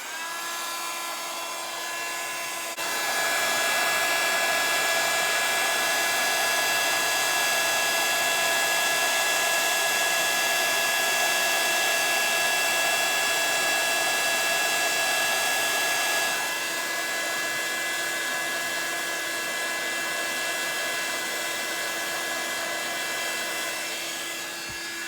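A heat tool blows hot air to melt embossing powder, a loud, steady whining drone with a tonal hum that runs without pause for over twenty seconds, pitch shifting slightly midway.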